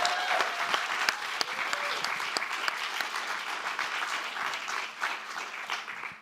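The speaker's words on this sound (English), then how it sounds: "maybe we should give another round of applause for Naomi, Kim, and Grace." A large audience at a folk music concert claps steadily and loudly for several seconds, a dense wash of applause that tapers slightly near the end.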